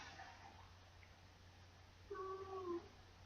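A cat meows twice in quick succession during a squabble with a dog, two rising wavering cries near the end, after a faint earlier mew over a quiet indoor hum.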